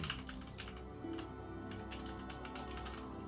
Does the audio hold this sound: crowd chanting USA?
no